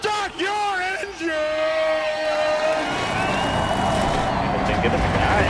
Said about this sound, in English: let's go trackside to fire up the engines